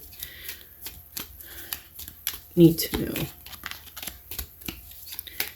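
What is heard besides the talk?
shuffling a new, stiff deck of cards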